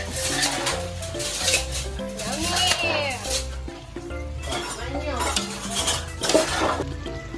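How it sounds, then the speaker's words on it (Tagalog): A spoon stirs hotdogs in a large cooking pot, a big batch for a birthday, with repeated scraping and clinking of metal over several seconds against steady background music. "nahalo na natin yung hotdog natin"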